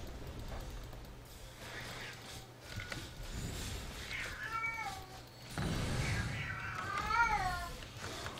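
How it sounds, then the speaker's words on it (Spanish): A pet cat meows in long, drawn-out wails with rising and falling pitch, two or three distressed cries close by over a steady background hum and faint game sounds. "¿Por qué mi gato llora de esa manera tan agónica?"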